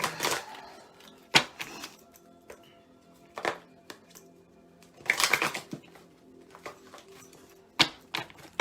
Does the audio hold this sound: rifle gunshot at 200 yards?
no